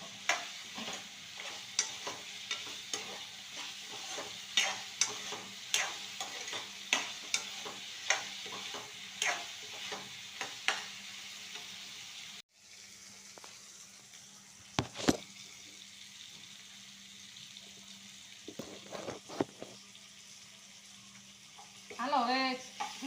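Brinjal fries with tomato and chili in a pan for a village-style brinjal and pigeon pea curry, with a soft sizzle under repeated scraping stirs that briefly pause midway, then resume more sparsely.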